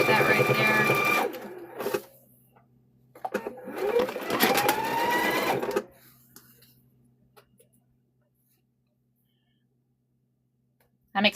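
A sewing machine back-stitches a kitchen hand towel in two short whirring runs, followed by quiet handling noises and near silence.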